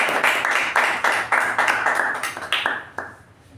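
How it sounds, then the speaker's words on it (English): Applause for Toastmaster Rachana at a Toastmasters club meeting: a small group claps in steady, close bursts that swell and then thin out toward the end, with no talking. "let's give a big round of applause to Toastmaster Rachana"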